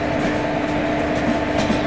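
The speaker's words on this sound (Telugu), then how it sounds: "ఇంకో ట్రైన్ అయితే వస్తుంది కదా, దాని సౌండ్ ఇక్కడ వరకు వస్తుంది గైస్." An approaching train in the Trainz Simulator video game, on an Indian railway route, gives a steady mechanical hum and rumble with a faint rhythmic rattle, sustained and unbroken.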